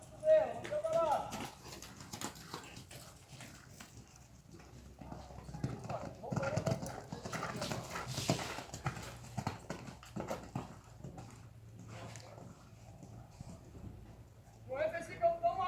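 Horse hooves clip-clop in a steady rhythm during show-jumping riding training, moderately close, while a coach talks over them almost throughout.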